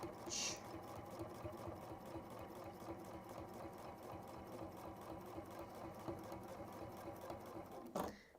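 A sewing machine stitches fabric in a continuous fast, even whirring run, close and steady, ending with a brief clunk as it stops.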